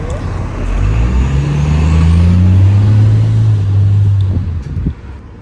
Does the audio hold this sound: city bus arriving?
yes